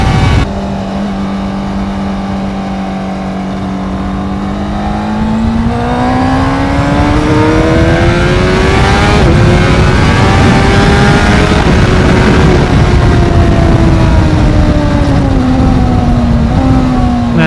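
A Honda CBR600RR motorcycle engine revs hard and climbs through the gears, loud and close from the rider's seat on a ride. The pitch rises, dips at each shift and rises again, with no talk over it.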